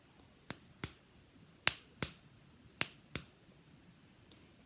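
Two fingers tapping on the back of a hand to imitate tiptoe footsteps: six sharp, close taps in loose pairs, with quiet gaps between them.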